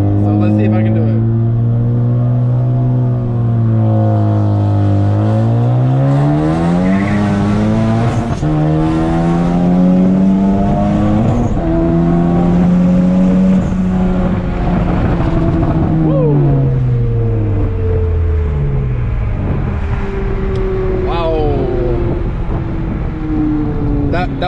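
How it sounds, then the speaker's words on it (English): A tuned car with a loud crackle exhaust tune revs hard for a brake-boost launch, its engine note climbing and falling in steady loud sweeps with sharp pops, close and continuous throughout. "let's get a little brake boost action"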